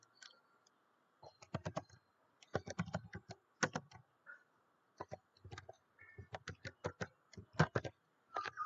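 Keys clatter on a computer keyboard in uneven bursts of quick taps with short pauses between words, close and fairly quiet, with no talking.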